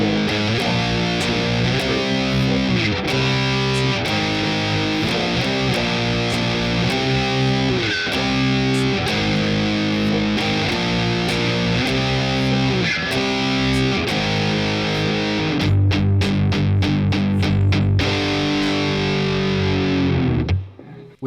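A distorted electric guitar plays the rhythm part for the solo section of a song, chugging steady palm-muted power chords before a final ringing chord, while a voice briefly counts in.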